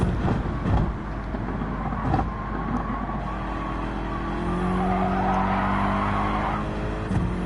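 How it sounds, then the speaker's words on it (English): A GT3 or GT4 racing car engine in Gran Turismo 7 drones steadily with a deep, throaty tone, rising in pitch as it revs, with tyres squealing faintly. "It is a different engine sound as well, so more than a dulcet, lower, deep tone"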